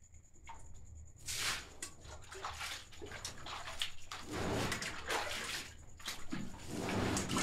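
Rainwater floods a room after an hour of heavy rain, sloshing and splashing as it is stirred and scooped out with a bucket; irregular close splashes and trickles, fairly quiet, with no talking.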